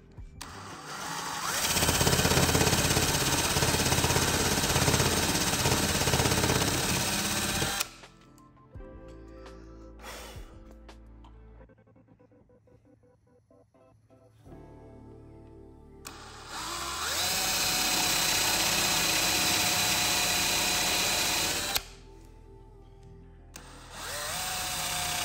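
Power drill boring into wood with a paddle bit for a DIY blanket ladder, two loud sustained whirring bursts separated by quieter handling noise.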